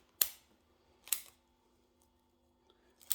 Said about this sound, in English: I'm just going to chop a few of these long ones off the top